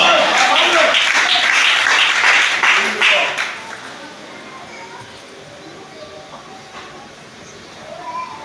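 A church congregation breaks into applause, a dense wash of clapping lasting about three seconds before it fades into a quiet room.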